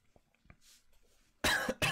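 After faint quiet rustles, a person who swallowed water the wrong way lets out two sharp, loud, close coughs in quick succession.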